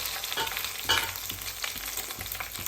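Curry leaves and chillies fry in hot oil for tomato pickle, making a steady crackling sizzle with small pops and scraping stir sounds close by, faint in level and with no voices.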